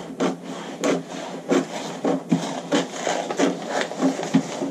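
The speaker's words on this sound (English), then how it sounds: "Cutting out our side seam." Shears cut along the side seam of a paper kimono sleeve pattern, each snip a short, soft rasping crunch repeating in an uneven rhythm, close and fairly quiet with no talking.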